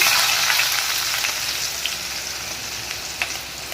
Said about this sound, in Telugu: దీన్ని గోల్డెన్ కలర్ వచ్చేంత వరకు బాగా ఫ్రై చేయాలి